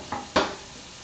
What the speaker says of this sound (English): I've got some onions in here sauteing with the burgers underneath them